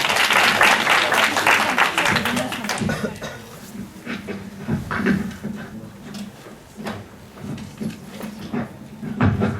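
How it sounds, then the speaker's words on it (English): An audience in a presentation setting breaks into applause, a loud burst of many clapping hands that thins out and fades into scattered claps and murmuring voices. "give a big applause to MUHSİN DEMİR"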